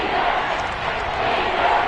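A stadium crowd cheering at a football game, a loud, dense, steady roar of many voices that holds without a break.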